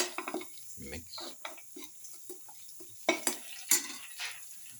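Spoon stirring ginger, salt and other spices through a cooking pot for an egg and tomato stew, with soft scraping and clinking strokes, a few louder knocks against the pot near the end, under a quiet room background.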